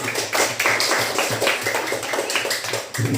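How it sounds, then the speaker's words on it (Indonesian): A primary-school class in Indonesia claps for a student who answered correctly about multiples, a quick, rhythmic patter of many hands close by, with no talk over it. "Beri tepuk tangan dulu untuk Insan."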